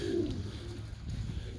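Pigeons coo in a loft, a low, soft, burbling call heard close at the start and then fading under a steady background hum.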